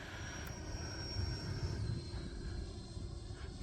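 An E-flite 90mm Viper electric ducted-fan RC jet climbs out after takeoff, a steady whooshing fan roar with a high whine that drops in pitch as the throttle is pulled back, heard fairly close.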